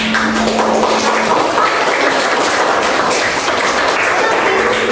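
Students in a classroom applaud their classmates, a dense continuous patter of clapping that stays steady and fairly loud throughout.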